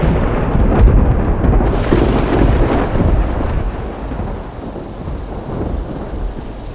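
Thunder rolls loudly over a heavy rain shower in the Namibian interior, a deep rumble that fades into steady rainfall with no voices.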